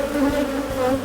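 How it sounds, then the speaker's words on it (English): Honey bees buzz loudly and continuously around a brood comb in a beehive, close by. "You can see the worker bees going in and out of the comb,"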